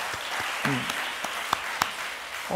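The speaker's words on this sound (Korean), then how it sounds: "우리 선교사님들 박수." A church congregation at a Full Gospel service in Ulsan applauds its missionaries, a steady wash of crowd clapping that fills the room throughout, with a few sharper individual claps standing out.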